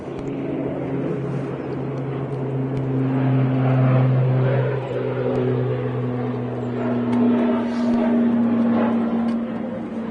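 An ATR turboprop aircraft at Manchester Airport gives off a steady droning propeller hum with tonal whine that swells and eases, heard from a moderate distance and loud throughout.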